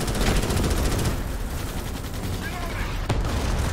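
Dense, loud gunfire and artillery barrage from a Starship Troopers: Extermination battle, with continuous rapid shots layered over booming blasts and a sharp impact near the end, voices faintly mixed in.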